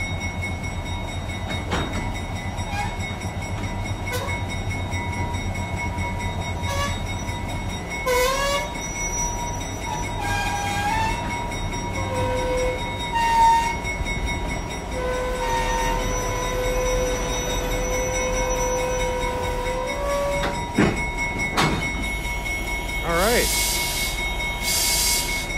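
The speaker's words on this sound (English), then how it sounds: "there she is, number 10, which is a 44-tonner GE" A GE 44-ton diesel locomotive rumbles past with clanking wheels and squealing rails, its horn tooting briefly, with people talking nearby.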